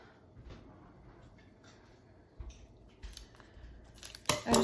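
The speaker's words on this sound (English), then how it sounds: "I need scissors." Scissors cut open a small package of drink-mix fizz sticks: soft, scattered snips and rustles build to a sharp, loud cut and crinkle at the very end, close by and without talking.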